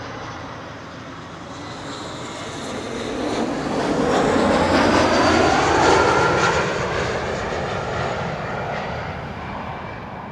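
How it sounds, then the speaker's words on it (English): A KLM Embraer 175 jet arrives at Amsterdam Schiphol, its engine roar swelling loudly as it passes overhead, then slowly fading, with no talking. "KLM Embraer 175 arriving from Humberside up next."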